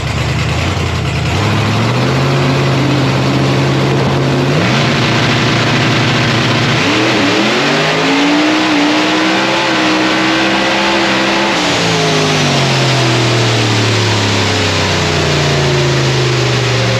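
A race car engine on a dirt oval revs hard and continuously, rising and falling in pitch as it accelerates and lifts through the corners, loud and close throughout.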